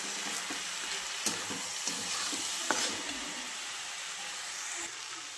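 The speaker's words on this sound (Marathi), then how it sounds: "डाळ टाकून चांगलं हलवून घेतलं एकदा." Dal sizzles and hisses in a hot pan while a spoon stirs it, with a few light scraping knocks against the pan over a steady frying crackle, close up and without talk.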